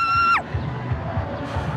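A shrill scream, like riders on a scary amusement park ride, slides sharply downward in a quick burst. A parrot likely mimics it rather than people, and faint crowd noise follows.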